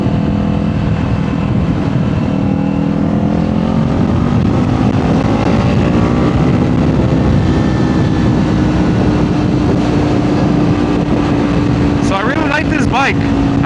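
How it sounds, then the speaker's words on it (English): A 2024 Kawasaki Z500 motorcycle engine drones steadily on the move, with a loud low hum and shifting pitch under constant wind rush. A rider talks over it throughout. "today I'm riding a Kawasaki Z500, a 2024 model."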